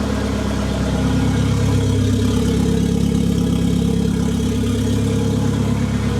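A car engine idles steadily after its exhaust has been cut, giving a deep, boat-like rumble with a slight stumble, loud and close throughout, with no talking.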